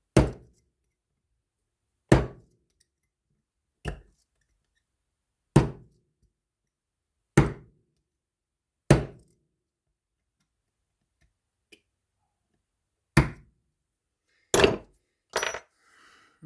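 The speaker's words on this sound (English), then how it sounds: "sometimes it helps to use an oversized punch, putting it back in so that you don't mess up the pin itself" Metal punch tapping a pin back into the handle of a DAM Quick Super 270 saltwater spinning reel: about ten sharp, isolated taps spaced roughly every one to two seconds, close and clear with silence between.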